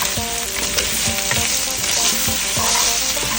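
Ground pork, onions and holy basil stir-fried in a hot pan, with a steady loud sizzle and repeated rhythmic scrapes of the spatula. No talking.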